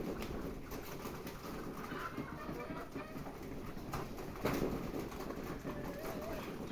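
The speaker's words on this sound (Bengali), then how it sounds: "ওই যে সব কবুতর চলে আসলো" Pigeons cooing as they gather on a rooftop to be fed rice, soft low calls repeating through steady outdoor background noise, with a brief louder rustle midway.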